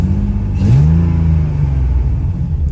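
A BMW E30 engine running lean revs once, the pitch rising sharply then settling into a steady, fairly loud idle-like drone up close.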